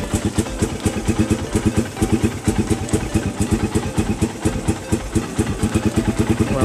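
A Raider 150 motorcycle engine idles through warm-up with a steady, fast, even put-put pulse, loud and close throughout, with no talking.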